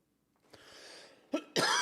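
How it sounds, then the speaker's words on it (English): Two or three harsh coughs close to the mic, the last one loud and raspy, with no talking. "I don't know why I started coughing here."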